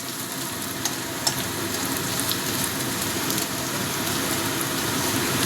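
Onions fry in a pan over a medium gas flame, producing a continuous, even sizzle with scattered pops and crackles like light rain, close and steady throughout, with no talking.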